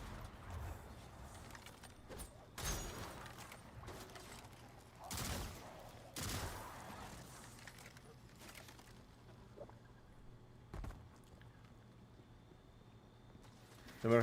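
Bursts of gunfire in the video game Destiny 2 go off at intervals, several sharp volleys against a quiet game background at low level.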